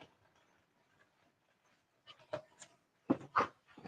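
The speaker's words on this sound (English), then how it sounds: "She's having a drink. She's thirsty puppy." Small dog lapping water, heard as faint, close, wet clicks that come in a quick irregular run and build to a few louder laps near the end, with no voices.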